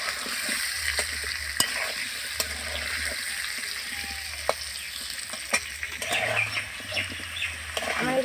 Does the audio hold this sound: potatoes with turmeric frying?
yes